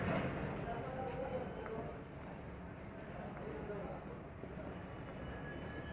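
Saraighat Express standing at a station platform before departure, with a steady low rumble of train and station noise throughout, under light talk.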